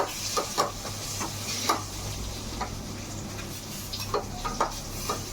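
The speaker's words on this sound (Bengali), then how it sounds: "এই দেখো রুটি ভাজছি আমি" Roti fries in a pan with a faint background sizzle, broken by scattered light taps and scrapes of a utensil against the pan, close up and without talk.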